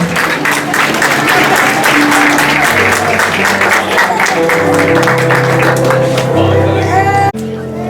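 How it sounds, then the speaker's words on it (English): Crowd applause at a Saturday night festival event in Buhl, Idaho, loud sustained clapping with music and chatter mixed underneath, cut off abruptly near the end. "Let's give Mal a round of applause for having to run."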